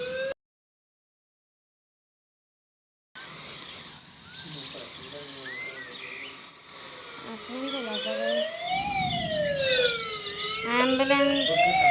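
A wailing ambulance siren from the mobile game Dude Theft Wars, sweeping up and down in repeated loud cycles after a short silence, with game effects underneath.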